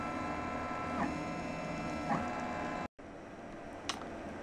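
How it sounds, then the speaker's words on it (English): A Printrbot 3D printer grinding the ends of its filament instead of extruding: a steady mechanical whir with tonal motor hum and a few soft clicks, briefly cutting out near the end. "It just decided it was gonna stop extracting, so stop extruding, and just grind up the ends of these filaments."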